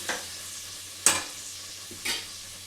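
Tomato rice mixture being stirred in a pressure cooker, three distinct scraping strokes spaced about a second apart over a soft steady sizzle, close and alone with no voices.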